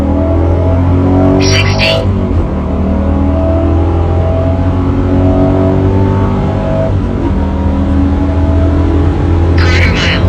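A 2002 Pontiac Trans Am WS6 accelerates hard, its V8 engine rising in steady, loud, close-up pitch climbs with gear changes, while a voice speaks briefly over the roar.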